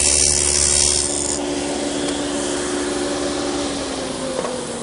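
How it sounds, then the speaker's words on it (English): A 1/4-inch dado blade cuts a groove through a wooden drawer side piece, giving a loud, continuous grinding rush that begins sharper and then settles into a steady roar, with no voices. "I've set up the dado for a 1/4 inch width, and we'll run that groove for the bottom first"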